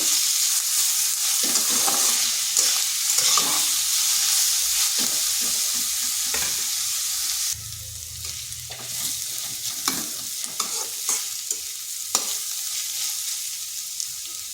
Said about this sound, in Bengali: এটাকে হালকা একটু ভেজে নিচ্ছি।